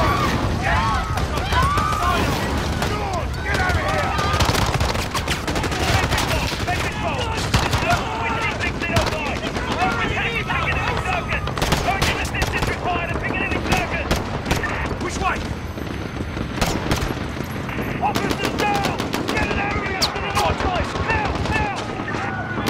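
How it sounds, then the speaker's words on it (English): Dense, continuous gunfire and explosive bursts fill a chaotic shootout at Piccadilly Circus in Call of Duty: Modern Warfare, with people talking and shouting throughout. "Shots fired."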